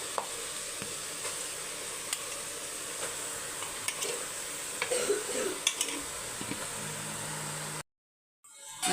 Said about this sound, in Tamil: நல்லா மிக்ஸ் பண்ணி விட்டுருங்க.